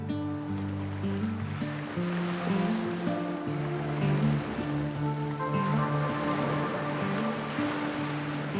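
Ocean waves churn in the Monomoy rips off Cape Cod during a striper fishing trip, a continuous broad wash of surf and moving water mixed with a low droning boat engine hum, with no talk.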